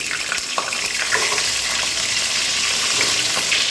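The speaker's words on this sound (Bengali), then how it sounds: "এবার এগুলো ভেজে নেব, তাই দিয়ে দিচ্ছি" Pointed gourds (potol), slit down the middle and rubbed with salt and spices, frying in hot oil in a pan, giving a steady, loud, close sizzle with crackling spatters throughout and no talking.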